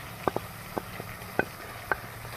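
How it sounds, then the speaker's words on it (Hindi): Garlic ginger paste and green chilies frying with chicken in a pan, a few scattered sharp stirring clicks and soft sizzle at low level with no talk. "इसको हम 1 मिनट के लिए भून लेंगे।"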